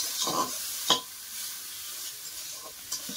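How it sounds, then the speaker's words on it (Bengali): Faint sizzling of prawns frying in oil with salt and turmeric, with a few soft clinks and scrapes of a utensil in the pan. "চিংড়ি তো ভাজতে খুবই কম সময় লাগে"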